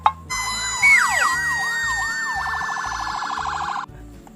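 A toy truck with lights plays a loud, close electronic siren: a rising sweep, then rapid wailing cycles that shift into a fast steady yelp before cutting off abruptly.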